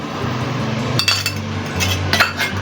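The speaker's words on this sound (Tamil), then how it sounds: "இப்போ இந்த இஞ்சி பூண்டை போட்டு நல்லா வதக்கி விட எல்லாம் ஒன்றா கலந்துடட்டும்." Spoon scraping and clinking against a pan while vegetables are stirred with ginger garlic paste for a paneer vegetable biryani, steady hum under a few quick metallic taps.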